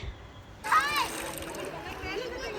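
River water splashes loudly for a moment, then sloshes and gurgles more softly, with faint children's voices in the background.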